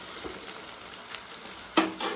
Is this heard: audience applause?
no